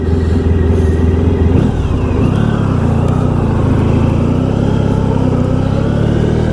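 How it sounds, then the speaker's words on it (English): A 1994 Honda ST1100 motorcycle's four-cylinder engine drones steadily while riding, a deep, constant hum that shifts pitch slightly as speed changes, loud and close without any voices. "It's a 4-cylinder engine."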